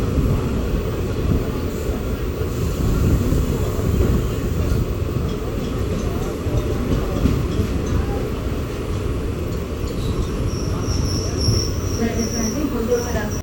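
Medak to Kachiguda unreserved passenger train 57302 rolling along steadily, a dense continuous rumble of wheels and carriages with a thin high wheel squeal rising near the end.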